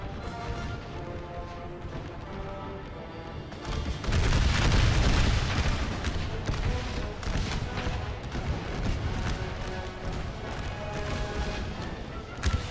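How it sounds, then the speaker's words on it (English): American Civil War artillery in a hardcore-mod battle game set in a burning forest: dense, continuous rumbling cannon booms and gunfire, swelling loudest around the middle and staying steady without talk. "Must have been taken out by artillery."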